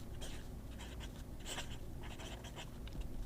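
A Delta Dolce Vita Mini fountain pen with black cartridge ink writes on Tomoe River paper, quiet close scratchy strokes in short irregular bursts with no speech.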